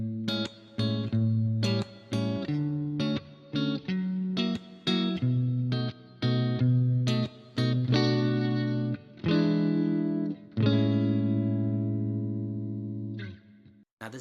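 Electric guitar with effects, playing a chord progression that includes a B dominant 7 secondary dominant: a series of strummed and picked chords with distortion and chorus, rhythmic short hits giving way to longer sustained chords that ring out near the end.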